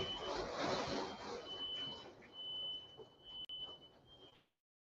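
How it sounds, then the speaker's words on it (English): A home smoke alarm sounds as a faint, thin, high-pitched tone that runs almost continuously in the background, set back in the room beneath low, muffled noise. "my damn smoke alarm going off"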